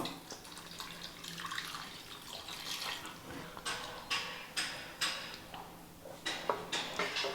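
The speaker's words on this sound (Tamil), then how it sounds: "இப்போ நல்லா கலந்து விட்டுட்டு தண்ணி சேர்த்துக்கலாம்" Water splashes and trickles in short bursts, close by, as it is poured into a soya keema gravy, with a faint steady hum underneath and no talking.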